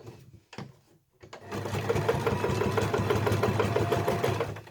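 A sewing machine runs steadily while stitching Jubilee bunting flags, starting with a couple of short bursts before settling into a continuous, close, even whirring rhythm.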